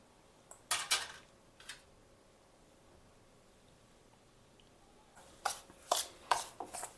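Semolina and curd mixed together in a bowl, heard as short bursts of spoon clinking and scraping against the vessel near the start and again toward the end, with quiet stretches in between.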